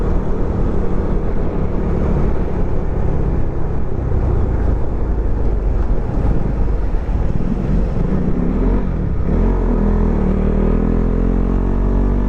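Heavy wind buffeting the microphone on a Husqvarna Svartpilen 401 during a night ride near Monte Maria, a steady loud roar with low engine drone underneath throughout, no talking.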